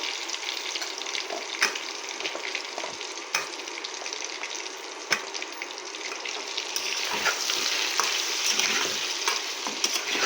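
Chopped pumpkin drops into a hot pan and fries with a steady, loud sizzle and crackle that swells toward the end, broken by a few sharp scrapes of stirring.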